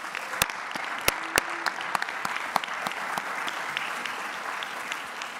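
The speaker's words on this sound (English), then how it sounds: "Let's give a big round of applause to our economists" Steady audience applause fills an economic forecast breakfast after the economists' talk, a dense wash of clapping with a few sharp, louder claps standing out, continuous and fairly near.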